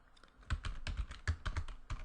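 Rapid keystrokes on a computer keyboard while Java code for a static cube method is typed, a close, steady run of uneven clicks with no talk.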